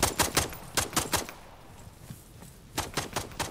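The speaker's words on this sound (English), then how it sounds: "Nice shot with a pistol there" Gunfire from a pistol in the video game Black One Blood Brothers: a quick run of sharp, loud cracks, a short pause, then another burst of rapid shots.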